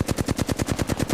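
Rapid automatic gunfire from the video game Apex Legends, a steady stream of about a dozen evenly spaced shots in just over a second, loud and close with no talk.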